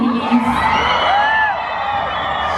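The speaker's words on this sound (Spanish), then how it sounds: "Grito por favor para Sofía cuando la vean" A crowd cheers, whoops and shouts at the red carpet of the Mexico premiere of Dungeons & Dragons, loud and continuous with high yells rising over the dense roar.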